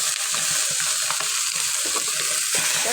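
Boiled noodles stirred in a hot frying pan with a steady sizzle and repeated scraping strokes of a spatula, close and continuous with no talk.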